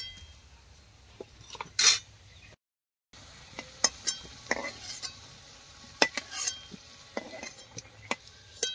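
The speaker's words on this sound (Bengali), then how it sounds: "এইরকম লাল লাল করে সব আলুগুলো আমি ভেজে নেব।" Potatoes deep-frying in a pan for biryani, a soft steady sizzle under scattered clinks and scrapes of a metal spoon against the pan, with one louder clatter and a brief gap.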